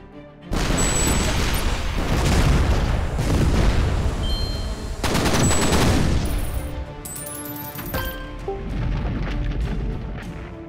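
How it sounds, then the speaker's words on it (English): Explosions and heavy gunfire fill the Shellshock Live video game, with rapid booming blasts in dense bursts, a brief lull, then more blasts and rising synthetic tones. "the sound of explosions and more explosions"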